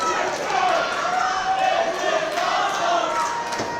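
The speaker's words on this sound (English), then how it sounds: "The crowd showing appreciation for these two teams." A crowd at an independent wrestling show cheers loudly and continuously, with a dense roar of voices, scattered shouts and sharp bangs.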